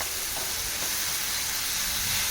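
Cucumber and tomato pieces frying in oil for a dosakaya chutney, a continuous close hiss and sizzle with no talking.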